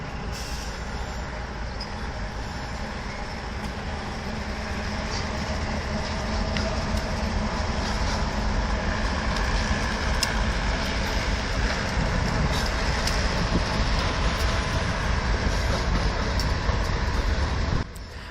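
I&O 9400, an SP tunnel motor locomotive still in Southern Pacific speed lettering and colors, rumbles past with its train near Grove City, Ohio, a steady rolling din that swells slightly and then cuts off.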